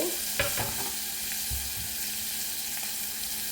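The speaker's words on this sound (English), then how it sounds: "And let's stir it here. All right, allow our onion just to saute." Chopped onion sautés in a pan with a constant quiet sizzle, broken by a few brief scraping stirs near the start, close and without talk.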